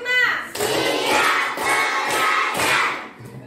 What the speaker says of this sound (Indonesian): Baiklah, kalau begitu kita tepuk semangat dulu.